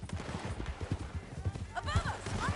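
Horse hooves in Red Dead Redemption 2 during a canyon ride, giving a quick steady clip-clop with scattered gunfire-like pops and voices talking over the top.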